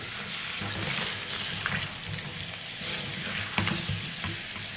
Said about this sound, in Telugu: ఇప్పుడు ఒకసారి బాగా కలిపేసి స్టవ్ని లో ఫ్లేమ్లో పెట్టుకొని 2 నిమిషాలు ఫ్రై చేసుకుందాం